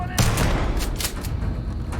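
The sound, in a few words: shotgun with slug rounds firing in video game Starfield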